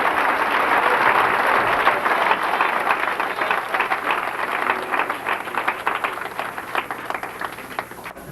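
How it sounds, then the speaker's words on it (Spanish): A church congregation applauds together, a dense wash of many hands clapping that stays steady and gradually thins out toward the end, with no voices rising above it. "un aplauso al Rey con todo su corazón"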